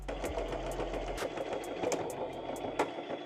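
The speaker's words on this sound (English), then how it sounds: "sewing this line here and then doing the same on the other side, sewing the line here" Sewing machine stitching the side seams of a denim tote bag made from old jeans, a close, rapid mechanical chatter running steadily with a low motor hum throughout.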